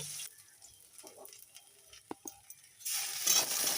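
Ginger and vegetables for shukto hit hot oil in a pan: a faint, low sizzle with a few soft clicks that swells into a louder, steady hiss near the end.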